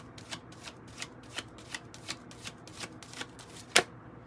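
Deck of Kipper cards being shuffled close by, a regular run of crisp riffling flicks about every third of a second, ending in one sharper snap.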